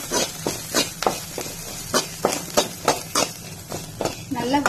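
Cumin, curry leaves, ginger and green chili sautéing in a pan, with a soft sizzle under repeated sharp scrapes and clinks of a spoon stirring against the metal at an uneven, brisk rhythm, close by.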